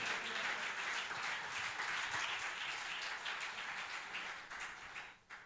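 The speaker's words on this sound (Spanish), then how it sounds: "Si usted puede aplaudir a Dios, hágalo" A church congregation applauds together, dense sustained clapping filling the room at steady loudness before tapering off near the end.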